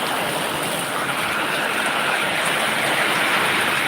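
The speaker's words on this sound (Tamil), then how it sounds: "வத்ராப்பில் பயங்கரமான மழை பெய்யுதுங்க" Heavy rain pours down steadily in Vathrap, a dense, loud, continuous hiss with no break and no voices.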